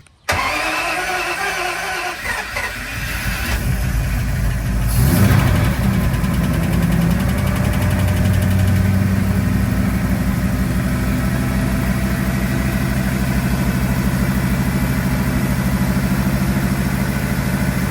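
A custom-built drag car engine cranks and fires up, then settles into a loud, steady idle close by, running alone without voices.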